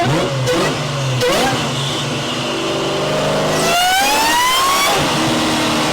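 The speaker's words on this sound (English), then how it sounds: "The 4-valve motors, they have such an exotic sound that all bets are off." A Ford Mustang V8 with a four-valve motor, an 80s–90s muscle car, revs hard and close, its engine note climbing and falling through several loud surges with a rising wail near the end.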